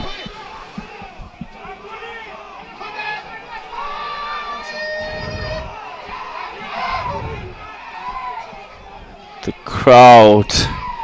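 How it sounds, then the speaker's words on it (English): Crowd at a Bhutan Premier League football match between BFF Academy and Thimphu City FC chants and shouts, a steady murmuring roar with rises, under a commentator's talk, ending in a sharp loud burst of cheering. "Crowd chanting, ranting."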